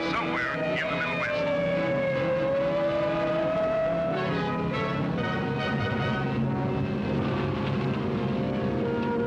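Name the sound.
car approaching, radio drama sound effect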